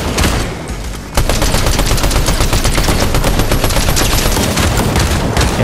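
Rapid, loud gunfire in Fortnite rattles almost without pause for several seconds, close and dominant, following a brief quieter lead-in.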